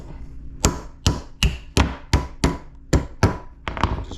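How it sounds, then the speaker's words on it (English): Nine sharp, heavy hammer blows drive a knife through a clam shell in a steady rhythm, each a hard metallic-woody strike on the blade, close by with no talking. "Just drive your hammer right through it"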